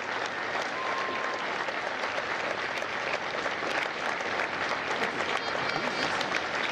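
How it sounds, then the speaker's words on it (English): Sustained audience applause at a U.S. Marine Corps recruit graduation in San Diego, a dense, even wash of many hands clapping throughout, loud and continuous with no pauses. "Ladies and gentlemen, a round of applause for their dedicated service to Corps and country."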